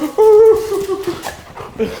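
A pet dog lets out a high, drawn-out whimper, then softer whines and snuffles while greeting its owner up close.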